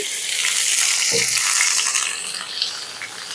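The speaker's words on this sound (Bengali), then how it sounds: "তেলটা গরম হয়ে গেছে এখানে আমি আদা রসুন একটু থেতো করে নিয়েছি সেই থেতো করে রাখা আদা রসুনটা তেলের মধ্যে দিয়ে দিচ্ছি" Crushed ginger and garlic hit hot oil for an amra korma with coconut milk, giving a loud, bright, continuous sizzle right up close that eases slightly near the end.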